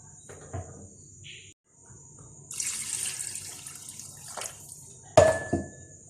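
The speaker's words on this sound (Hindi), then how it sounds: "तो मैं भी थोड़ा सा पानी मज़ीद ऐड करूँगी" Water is poured into a cooking pot of beef yakhni pulao with rice, in a short splashing burst mid-clip, amid a quiet kitchen with a faint steady high insect-like hum and a few clinks.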